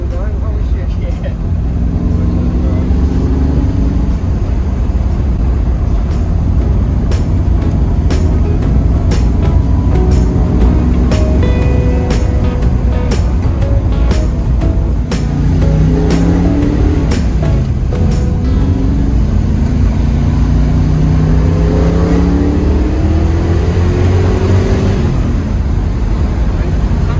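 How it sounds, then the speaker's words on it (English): A Ford Falcon 500 XY ute with a V8 engine is driven, giving a steady low rumbling drone under voices talking, with scattered light clicks and rattles. "Nothing like V8 power, you just can't beat it, can you?"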